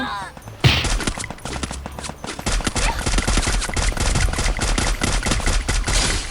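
Rapid bursts of gunfire from the video game Free Fire, dense overlapping shots fired in quick succession, loud and continuous after a brief quiet start, with a voice faintly present.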